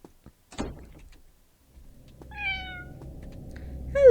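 A cat meows in a horror video game, one clear, close, drawn-out meow rising over a low ambient hum, preceded by a few soft knocks and shuffles.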